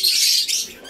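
Pet African lovebirds chirping close by: a short burst of bright, high-pitched twittering calls, loud and alone, lasting about a second.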